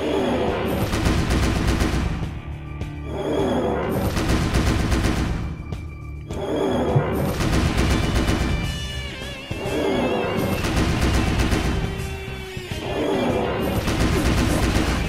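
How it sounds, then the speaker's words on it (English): Repeated bursts of gunfire from Surf's gun in the Digital Devil Saga video game, loud crashing volleys in a steady rhythm of about four waves with brief gaps between them, alone without talk. "I could just see if Surf can deal damage with his gun"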